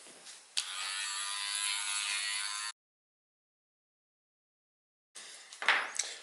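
A cordless Dremel with a diamond cutoff wheel cuts a balsa wood inset for a servo box, a close, bright whine lasting about two seconds, then silence before a short second burst.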